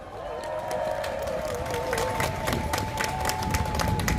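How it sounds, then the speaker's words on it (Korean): An outdoor crowd claps and cheers at a presidential campaign rally in a market square, steady loud clapping with a sustained tone and voices running underneath. "여러분, 이분들에게 아주 큰 박수 부탁드립니다."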